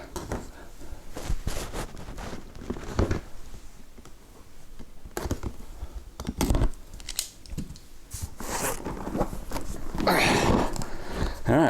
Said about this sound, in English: It's not shrink wrapped, but it is held closed by a few tabs of sticky tape.